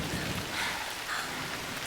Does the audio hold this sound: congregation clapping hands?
no